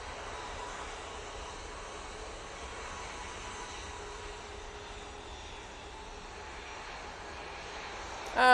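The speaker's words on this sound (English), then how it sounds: "Brussels is out here using their A320 Neo." Brussels Airlines Airbus A320neo jet airliner at an airport, a faint steady engine rumble and hiss held at a distance, with a brief louder bump at the very end and no speech.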